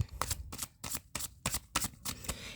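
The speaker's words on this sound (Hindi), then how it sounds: "Last shuffle." A deck of tarot cards is shuffled by hand in about eight rapid, rhythmic riffling bursts, close and soft, with no voice over it.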